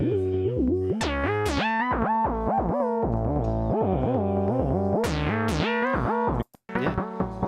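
A distorted, acidic synth line plays a rapid run of gritty, buzzing notes with sharp bright stabs, cutting off briefly near the end before resuming; a synthesizer with its distortion turned up.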